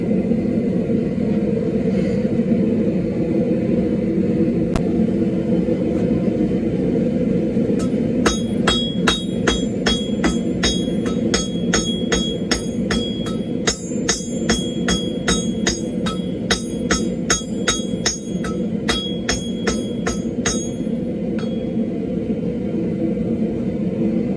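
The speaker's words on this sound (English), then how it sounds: "I found a little sledge, so I'm going to go ahead and use that." Steady rhythmic blows from a small sledgehammer ring on metal while making a BBQ grill stake turner, a long run of evenly spaced clanging strikes over a constant low rumble.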